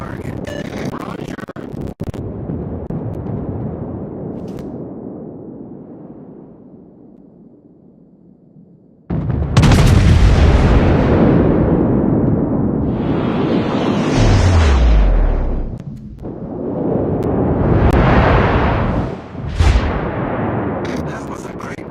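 Artillery fire and explosions in a video game come as loud, roaring booms and long rumbling blasts swelling and fading over wind-like noise, while a radio-style voice talks.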